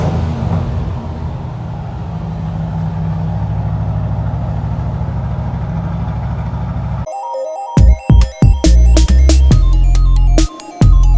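A 1968 Chevrolet El Camino engine running under rebuild, a steady loud idle rumble that then breaks into choppy, uneven bursts with sharp cutouts as the car is driven out.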